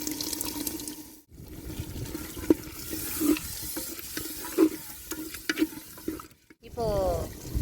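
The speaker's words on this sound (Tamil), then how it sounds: "இப்போது தேவையான தயிர் ஊற்றிக்கலாம்." Yogurt poured into a mushroom biryani masala with mint and coriander, then stirred in a pot, giving wet scraping and squelching strokes under soft sizzling, with brief pauses between stirs.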